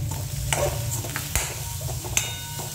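Fried potatoes with sugar being stirred in a pan, a low steady sizzle with a handful of sharp scraping taps of a spoon against the pan, close and moderate in level.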